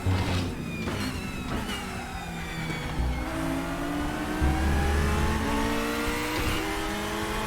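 A DTM race car in the RaceRoom racing game, its engine loud and close, revving up through the gears in rising sweeps with brief lifts and shifts, continuous throughout with no voices.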